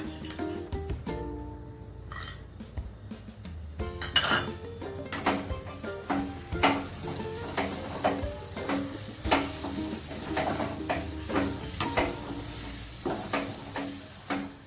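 Ghee going into cooked semolina for mango shira in a pan, with a soft sizzle under repeated spoon scrapes and clinks against the pan at a steady stirring rhythm, close and fairly loud, with no talking.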